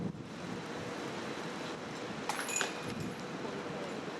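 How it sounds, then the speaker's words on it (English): Strong wind buffeting the microphone at an outdoor disc golf course in Jonesboro, a continuous roaring rush with a brief gustier swell midway, along with faint jangling and no voices. "Yeah, the wind is just blasting away right now."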